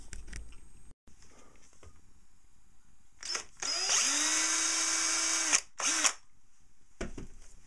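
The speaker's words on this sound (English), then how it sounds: "Then I'll drill through and bolt that into place." A power drill drilling through to mount an antenna rotator motor whirs in two short bursts, then runs loud and steady for about two seconds, followed by another brief burst.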